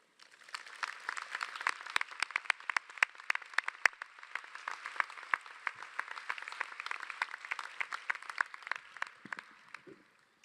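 An audience claps to welcome a graduation speaker, a dense burst of applause starting at once, holding steady for several seconds, then thinning out and fading near the end.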